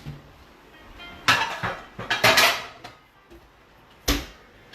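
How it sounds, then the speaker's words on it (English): A frying pan grabbed and set on a stove burner in a home kitchen, sharp metallic clanks and clatters in a quick cluster with a final knock after a pause. "I know I'm going to use the medium heat right away and grab a frying pan"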